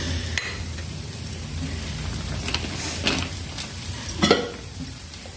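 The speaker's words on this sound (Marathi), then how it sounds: "तेल लावून दोन्ही साईडनं भाजून घ्यायचं." Thalipeeth flatbread roasting with oil in a pan, a soft steady sizzle with occasional light clinks and scrapes of a utensil, close and fairly quiet.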